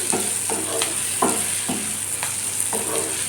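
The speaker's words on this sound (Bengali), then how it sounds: "তেলের মধ্যে একটু পেঁয়াজ গাজর কাঁচা লঙ্কা কুচি করে দিয়ে ভাজা ভাজা করে ফ্রাই করে নিচ্ছি আমি" Chopped onion, carrot and green chili frying in hot oil, a constant bright sizzle with repeated scraping stirs of a spatula in the pan.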